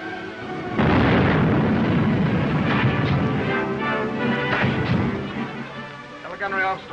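British cruiser's naval guns firing at a South American battleship in a film battle scene, a heavy booming blast followed by rolling rumble and further bursts, with voices under the gunfire.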